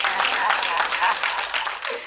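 An audience at an NNPC-related event applauds with dense, continuous clapping for the whole moment, fairly loud, with a slight fade at the end.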